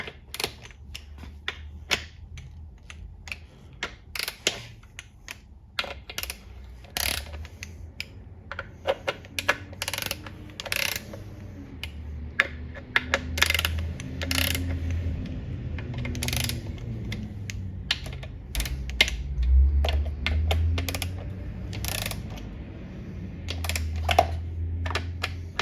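Ratchet wrench snugging bolts on a ZF 8-speed mechatronic valve body in a 79 Series, with quick clicking bursts and taps scattered throughout over a low rumbling background, close by.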